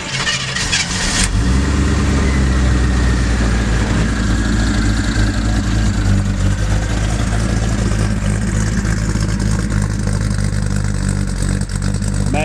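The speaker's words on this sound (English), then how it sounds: "Magnaflow exhaust system sounds very nice. A very deep, mellow tone with a small cam." A 1978 Chevy K5 Blazer truck engine with a small cam and Magnaflow exhaust cranks and catches, then settles into a loud, deep, mellow exhaust rumble that holds steady throughout.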